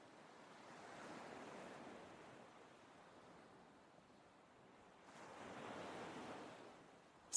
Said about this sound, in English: Surrounded by nothing but nature and the gentle sound of the sea